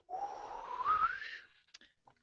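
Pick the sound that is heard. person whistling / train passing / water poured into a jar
person whistling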